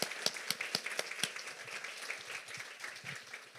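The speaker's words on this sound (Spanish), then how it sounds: "Un aplauso." Light applause from a small audience at a queer imagery talk, a scattering of distinct claps with a few sharp individual hand strikes early on, tapering into thinner, softer clapping.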